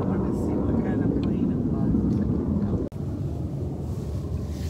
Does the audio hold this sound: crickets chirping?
no